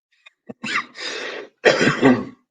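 A man coughs several times in quick succession, close to the microphone, with short harsh bursts followed by a longer rasping cough and a brief throat clearing, with no talk over them.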